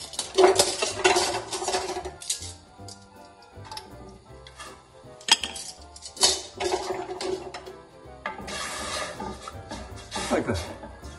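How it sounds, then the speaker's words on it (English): A hot pot being stirred with a wooden spoon, heard as close, uneven clattering and scraping knocks in bursts, with pauses between them. "Only stir things with a wooden spoon."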